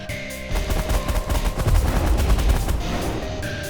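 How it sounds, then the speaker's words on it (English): Rapid bursts of weapon fire from the space game The Last Federation, shot while cloaked, sound as a dense rattling barrage of repeated blasts that swells and holds for several seconds before easing off, with no talk. "Yep, I can fire while cloaked."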